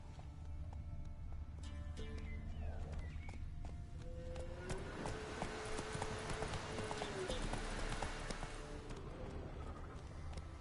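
Roach the horse trots along in The Witcher 3, and its hooves give a steady, moderately near clip-clop over a low background hum with faint tonal game sounds. No one speaks.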